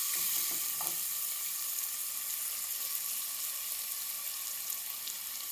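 Chopped onion frying in a pan with salt, sizzling steadily and close up with a constant hiss, a few faint clinks near the start.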